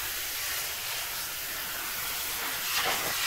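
Steady broadband hiss of water spraying from a hose onto a car wheel and wheel well, continuous and fairly close, with a slight surge near the end.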